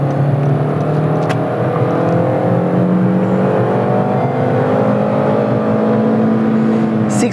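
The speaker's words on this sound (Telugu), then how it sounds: "సెకండ్ గేర్లో ఒకసారి చూద్దాం." Honda Amaze car with an i-VTEC petrol engine revving hard in second gear, heard from inside the cabin as a loud, steady rising drone with climbing engine tones and road and wind roar throughout.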